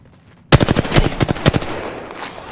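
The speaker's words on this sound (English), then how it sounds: "Getting shot at." Rapid automatic gunfire bursts in the video game Apex Legends, loud and close, starting abruptly and rattling in quick uneven volleys before trailing off into a quieter tail.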